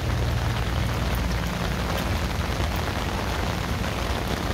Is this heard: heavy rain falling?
yes